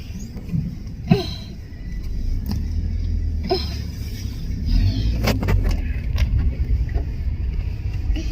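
A car arrives for an early-morning departure to the station, its steady engine rumble running low and continuous throughout, with a few short clinks and brief knocks on top.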